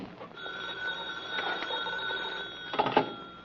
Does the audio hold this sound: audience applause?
no